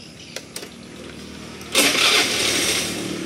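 A used 2014 Honda Scoopy motorcycle is started with its electric starter: a couple of faint clicks, then the engine catches and settles into a steady, fairly loud idle.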